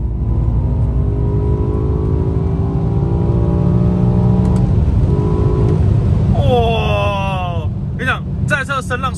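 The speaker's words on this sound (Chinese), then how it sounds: "因为原厂 M6 的声浪，它不是那种炸出来的声浪，它其实有那种层次感，它是有厚度的" A stock BMW M6 exhaust hums steadily as the car accelerates on a highway, its pitch rising gradually; a voice talks over it near the end.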